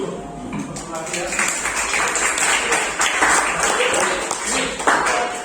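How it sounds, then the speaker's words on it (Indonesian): A group applauding in a classroom after a prayer, a dense patter of clapping that builds after the first second and carries on with voices mixed in. "Kita aplaus dulu."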